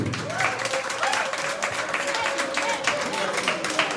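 An audience at a Congolese music event applauds and cheers, a steady wash of clapping that lasts the whole stretch, with voices mixed in.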